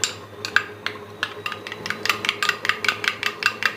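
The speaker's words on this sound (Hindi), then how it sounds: "दही को हम थोड़ा सा फेंट लेंगे पहले" Yogurt whisked in a bowl for mutton handi, a steady run of brisk scraping strokes about three or four per second, close and fairly loud with a low hum underneath and no talking.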